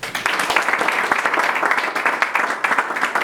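Church congregation applauding to acclaim Jesus during a worship service, dense sustained clapping from many hands, loud and continuous throughout, with some voices mixed in.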